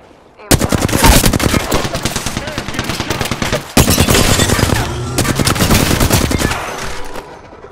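Loud, sustained automatic gunfire from an Apex Legends match on PS4, rapid bursts rattling nearly nonstop with a brief break midway before firing resumes.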